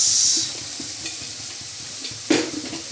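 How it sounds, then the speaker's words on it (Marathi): A mixture for egg bhurji sautéing in a pan, a steady close sizzle with soft scraping stirs and a clack of the spatula against the pan, no voices. "तर हे सगळं आपलं परतून झालेलं आहे."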